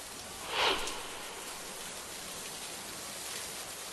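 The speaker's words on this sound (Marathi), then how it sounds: "एवढा मोठा पाऊस या ठिकाणी झालाय" Heavy monsoon rain pours down in Maharashtra as a steady, dense hiss, with a brief louder surge of splashing near the start.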